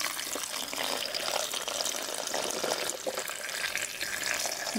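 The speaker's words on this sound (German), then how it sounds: "als letztes fülle ich das alles mit Wasser auf" Water rushes and splashes steadily into a blender, a continuous hissing pour with no talking.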